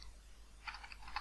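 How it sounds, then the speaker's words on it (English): Soft clatter of a password being typed on a computer keyboard, a handful of quick, faint keystrokes in the second half over a quiet room hum. "I'm going to type a password"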